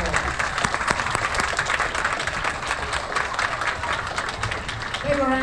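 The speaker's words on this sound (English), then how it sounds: "Let's give them a big round of applause." A school assembly audience applauds after a Chinese New Year performance, loud, dense clapping with crowd noise and some voices mixed in, ending with a brief voice rising near the close.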